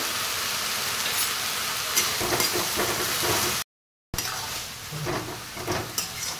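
Kolmi greens (water spinach) being stirred as they fry in a pan, a steady broadband sizzle with scraping stir strokes, briefly cutting out midway before resuming.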